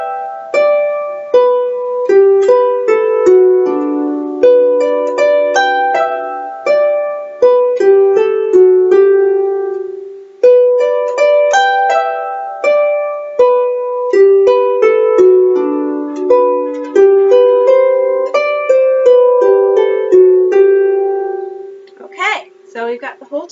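A harp plays the B part of the folk tune The Keel Row, clear plucked notes in a lively, stepping rhythm with a brief pause midway and a final ringing chord, played alone.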